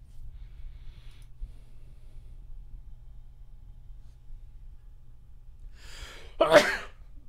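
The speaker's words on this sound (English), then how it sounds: "sneeze for the stream right there." A single sharp sneeze bursts out near the end of a quiet stretch, close and loud against a low steady background hum.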